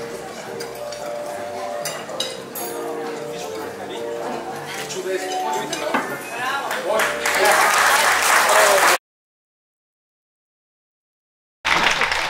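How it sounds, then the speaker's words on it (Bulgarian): Applause for silver medal winners in the large decorative display category at a Bulgarian cake art competition, a broad crowd clapping with clinking glassware and murmured talk, swelling louder before cutting to silence and returning briefly. "Аплодисменти за сребърните медалисти."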